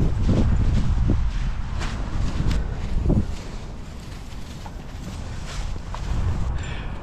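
Wind blowing outdoors during a walk with seven small dogs, a steady loud low rumble of gusts buffeting the microphone, with faint scattered rustles and footfalls underneath.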